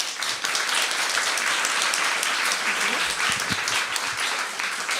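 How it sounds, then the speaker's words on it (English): An audience greets a woman named Lauren with steady, dense applause that fills the whole stretch at an even loudness, with a few louder claps near the end. "Give her a welcome applause."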